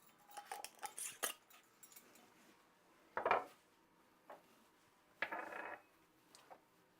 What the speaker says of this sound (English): I'm just putting everything in a pan